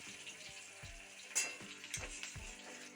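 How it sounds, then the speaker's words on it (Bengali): Green chillies and chopped onion sizzle in hot oil, a steady close crackling hiss broken by a few soft stirring knocks through the pan, with no voices. "এবার গরম তেলে দুটি কাঁচা লঙ্কা ও কুচনো পেঁয়াজ দিয়ে দিলাম। এখন এটি ভালো করে ভেজে নেব।"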